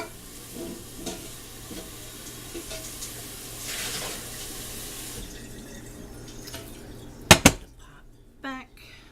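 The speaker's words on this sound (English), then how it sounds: "Rinse my pot." Tap water runs into a cooking pot being rinsed in a kitchen sink, a steady splashing wash with brief clanks of the pot and a couple of sharp knocks near the end.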